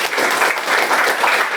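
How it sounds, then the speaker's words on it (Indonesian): Students in a classroom burst into brisk, steady applause for a classmate, a dense clatter of small hands lasting under two seconds with no talking. "Tepuk tangan buat temannya."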